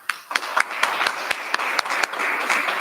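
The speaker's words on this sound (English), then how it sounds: "let's give them a round of applause" A room of people clapping for sheriff's deputies at a community meeting, a dense run of applause with sharp individual claps standing out throughout, steady and fairly close.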